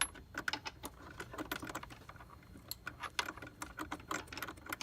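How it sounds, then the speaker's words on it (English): Bolts are removed with a ratchet during an Injen intake install on a 3.8 Genesis Coupe, a quiet run of rapid irregular clicks and metallic ticks close by. "So what's coming out next, I'm going to take these bolts out."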